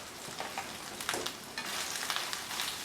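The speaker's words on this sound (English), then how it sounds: "get this chorizo getting cooked up as well" Deer backstrap and chorizo fry in a hot pan, a steady close sizzle with occasional stirring scrapes and crackles throughout.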